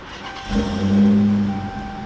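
A 2020 Dodge Charger Daytona Hellcat Widebody fires up: a brief crank, then a deep, steady engine note that swells loudly for about a second before settling to a lower idle hum.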